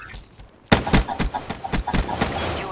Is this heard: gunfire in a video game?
yes